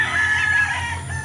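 A broodcock rooster crows once, close and loud, a sustained strained call lasting just over a second with a rasping tail, no talk over it.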